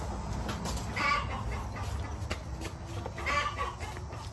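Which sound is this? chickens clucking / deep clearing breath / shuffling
chickens clucking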